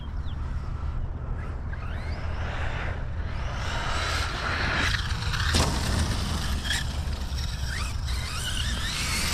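An Arrma Kraton XL RC car's electric motor runs at half throttle outdoors, a steady loud whirring drive noise with some whooshing swells and a brief sharp peak partway through.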